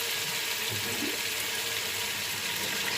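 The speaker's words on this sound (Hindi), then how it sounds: "अब हम इसमें शामिल करेंगे पानी," Water from a jug is poured into a pot of chicken and potato masala for shorba, a steady loud rushing pour throughout.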